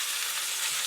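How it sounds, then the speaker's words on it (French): Mixture of cracked olives and olive oil being stirred, a steady wet hissing, sizzle-like texture heard close and continuous for under a second. "Je vais bien mélanger."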